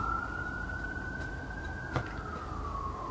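An emergency vehicle siren holds a long, steady tone along a Brooklyn street. It sounds somewhat distant over constant low traffic rumble, with one brief knock near the middle.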